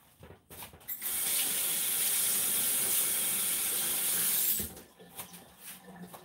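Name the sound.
water running from a tap while washing something off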